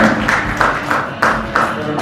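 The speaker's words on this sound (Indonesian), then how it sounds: "Boleh tepuk tangan lagi dong, tepuk tangan lagi dong." Applause from an audience at a Spotify podcast press conference, a steady dense patter of clapping with slight surges throughout, fairly loud and close with no talk over it.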